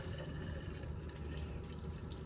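Cold tap water runs steadily over dyed hair extensions in a sink, a close, continuous splashing stream with faint dripping.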